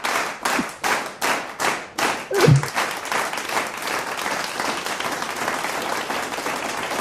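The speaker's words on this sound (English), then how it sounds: "let's give him a warm round of applause here" A studio audience gives a show guest a round of applause, opening with a few loud, rhythmic unison claps, then settling into steady, dense clapping.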